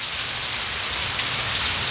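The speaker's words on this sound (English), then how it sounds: "The patter of rain falling outside." Steady rain falls outside, a dense, even patter close by with no pauses and no voices.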